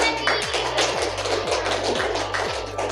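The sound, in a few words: classroom applause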